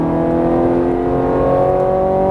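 A Ferrari 430 Scuderia accelerates hard on a racetrack, its engine note loud, close and steadily climbing in pitch for the whole stretch with no break.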